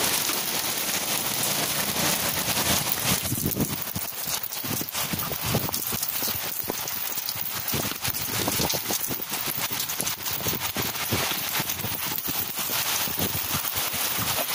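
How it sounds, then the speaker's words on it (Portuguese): Small hailstones fall in Araranguá, making a dense, steady, rain-like patter and clatter that fills the whole scene at a fairly low level. "Chuva de granizo em Araranguá, que medo."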